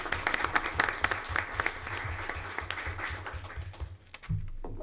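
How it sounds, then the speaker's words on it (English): An audience applauds a group of nervous student presenters at a school district board meeting, with steady clapping that thins out near the end before a low voice comes in. "let's give them a nice round of applause"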